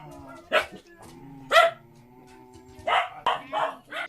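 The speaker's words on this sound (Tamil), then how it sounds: "ஒரு குடும்பத்தினர் ஒரு சிறிய வீட்டில் நூற்றுக்கணக்கான நாய்களை வளர்த்து வருகின்றனர்" A pack of dogs kept in a small, crowded house bark in short bursts: single sharp barks, then a rapid cluster of overlapping yelps from several animals, close and loud against a low murmur.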